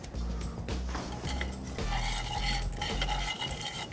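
A whisk works cold butter knobs into a beurre blanc reduction in a hot pan, producing brisk, rhythmic metallic scraping strokes at close range, with no talking.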